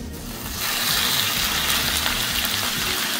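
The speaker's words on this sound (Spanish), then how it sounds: "Ponemos en un sartén caliente aceite y vamos a poner también nuestro bistec." Beef steak, about 400 grams, dropped into hot oil in a frying pan, setting off a steady, close sizzle and crackle that swells after a brief quieter start and holds loud with no talking.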